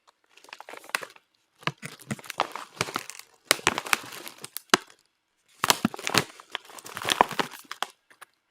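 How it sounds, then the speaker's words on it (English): A chips bag crinkled for ASMR, loud close crackling and rustling in four separate bursts split by short silences, no voice. "let's try some crinkly sounds with a chips bag"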